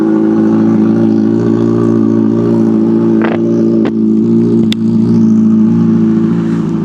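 A 600cc motorcycle engine idles steadily and loudly right after a cold start, a continuous low rumble with a few brief sharp clicks and one short rising blip partway through.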